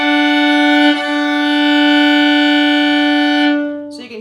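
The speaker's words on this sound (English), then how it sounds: "If there's too much wave interference, it sounds like this, and you can tell that it kind of sounds out of tune." Viola bowed in a sustained unison note that sounds slightly out of tune, with a steady tone and a faint wobbling beat, close and clear, broken briefly once by a bow change.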